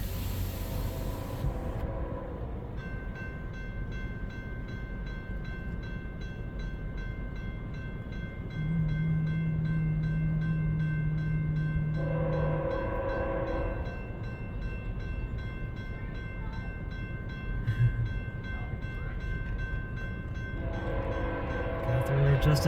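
A CN freight train rumbles past at a distance at a level crossing near Ladysmith while its K5HL horn sounds in long blasts, separated by quieter stretches of rolling noise.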